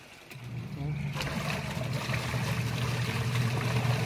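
Drum of a washing machine spins strongly, a steady whooshing churn of water rising after a brief lull, with a person speaking over it at times.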